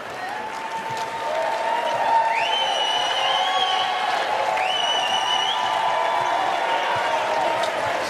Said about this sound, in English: More applause and standing ovation from the crowd here at Georgia Tech.